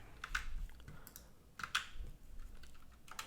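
Code comments being typed on a computer keyboard, heard as short, quiet bursts of clicking keystrokes with pauses between them in a calm indoor setting, no talking.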